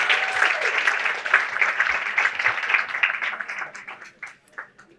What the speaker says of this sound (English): let's have another round of applause for Isabel.